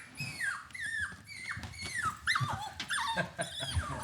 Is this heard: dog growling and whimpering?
yes